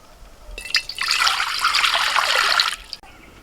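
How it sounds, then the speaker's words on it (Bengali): Water splashes and trickles steadily for about two seconds as rice is washed for paneer matar pulao in a home kitchen, close and fairly loud, ending abruptly. "মা চালটা তাহলে ধুয়ে দিই।"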